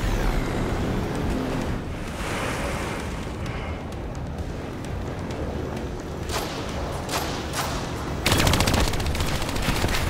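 Turret gunfire and explosions in the Call of Duty Black Ops 3 video game, sustained loud rapid fire with blasts and bursts throughout, intensifying near the end.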